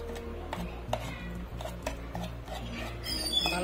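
A spoon stirs nut-flavoured butter into marble cake batter made with flour and Eno, clinking and scraping against a bowl in a steady rhythm of close, light taps.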